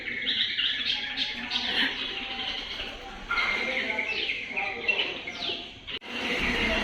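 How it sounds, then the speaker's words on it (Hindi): Small birds perched on a railing chirp in the morning, a busy cluster of high, quick tweets and calls continuing throughout, fairly close, with a steady background hum. "सुबह सुबह इनकी चहचहाट जो है ना बहुत अच्छी लगती है।"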